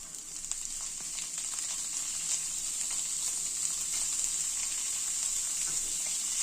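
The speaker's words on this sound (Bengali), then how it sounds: "এবার এর মধ্যে দিয়ে দেবো চিকেনের কিমাটা।" Chicken mince sizzles and fries on a high flame for a Lung Fung soup, a steady close hiss running throughout with faint stirring scrapes and no talking.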